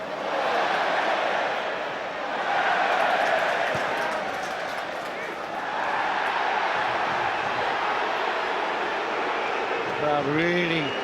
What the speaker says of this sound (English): The crowd really angry about the red card